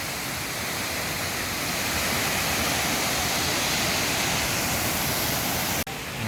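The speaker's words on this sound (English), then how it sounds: "we just had an awesome day at the waterfall" Kuang Si Waterfall near Luang Prabang pours in a loud, dense, unbroken roar of falling water heard up close, steady for several seconds before a brief sharp dropout near the end.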